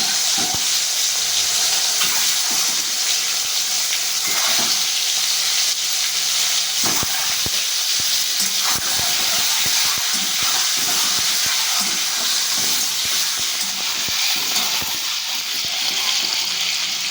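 A steady, loud hiss of frying fills the whole stretch as eggs cook in hot oil in a kadai, with a few bubbling crackles, and no voices.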